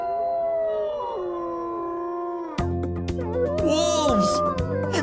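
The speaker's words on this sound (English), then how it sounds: "Wolves! And they're answering." Cartoon wolves howl back in answer, their long, layered howls overlapping one another, loud and sustained, with busier, denser sound joining in partway through.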